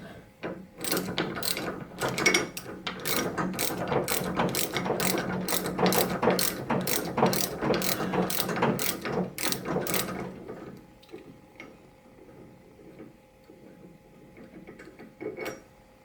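A ratchet fitted with a 1/2 inch socket removes the wheels from a Healthrider treadmill, model DRTL25061, with rapid, steady, close clicking for about ten seconds, then quieter handling noises.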